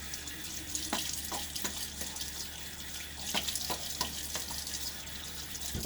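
Tap water runs steadily into a sink while a Gillette d'Luxe razor is rinsed under it, a close hissing stream broken by splashes and small knocks as the razor moves through the flow, with no talk.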